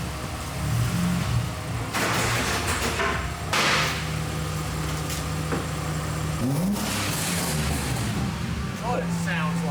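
Car engine revving hard through a new, bad-sounding aftermarket exhaust, rising and falling in rough bursts with a raspy drone between them, close and loud, with people's voices heard around it.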